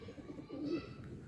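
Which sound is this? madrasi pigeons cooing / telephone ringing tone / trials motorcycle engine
madrasi pigeons cooing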